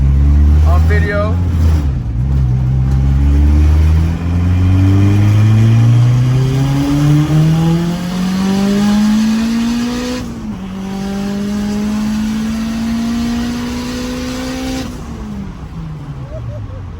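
A turbocharged Honda F20B engine revs hard through a full pull, its rising tone climbing steadily through the gears with short dips at each shift. It is loud and close throughout, with voices over parts of it.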